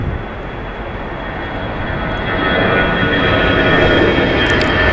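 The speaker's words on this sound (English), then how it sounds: "Departing here is Delta Airlines, flight 1143 going to Houston. It's an Airbus A319, 21 years old." A 21-year-old Delta Airlines Airbus A319 departs LAX for Houston, a continuous broadband jet roar that swells noticeably partway through and holds at a louder level.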